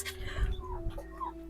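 Nearby chickens give a few soft, low clucks and murmurs over a steady background hum, brief and fairly quiet.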